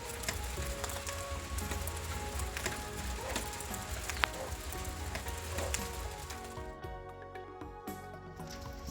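Rain on a rural house in Laos, a steady dense patter and drip on the roof and surroundings that holds loud for most of the stretch, with scattered sharper drops and a slight thinning near the end.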